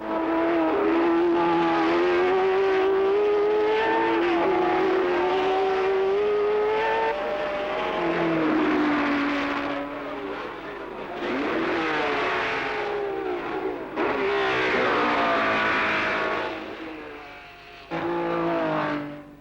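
1967 German Grand Prix racing cars, a Repco Brabham leading, roar continuously at full throttle, their engine notes rising and falling through gear changes and passes, loud and close throughout with no voices.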